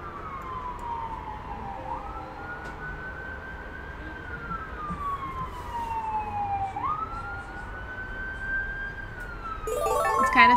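Emergency sirens wailing in the distance, their pitch sweeping slowly up and down in long cycles over steady low background noise, with a sharper warbling tone joining near the end and the sound growing louder.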